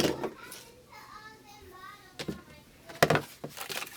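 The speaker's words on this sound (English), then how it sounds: "Sorry if you can hear people in the background," Children playing and moving around in a home in the background, with faint kid voices and scattered bumps and footsteps that grow louder and busier toward the end.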